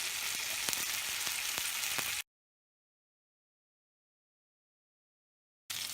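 Spicy chicken legs pan fry in butter over low heat, a steady close sizzle with a few sharp pops, cut off abruptly partway through and resuming at the very end.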